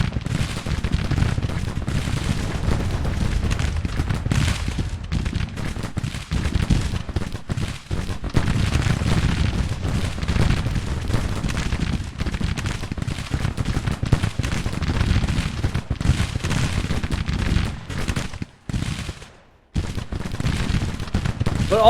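Civil War cannon artillery fire from the strategy game Grand Tactician: The Civil War rumbles in dense, overlapping booms and crackling volleys that continue almost without pause, loud throughout.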